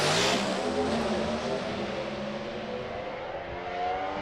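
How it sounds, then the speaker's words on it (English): Two Pro Stock drag racing cars rev their engines at a drag strip in Sydney, a loud, sustained roaring drone with shifting pitch, heard from a distance and unbroken throughout. "You can hear the revs building up on both cars."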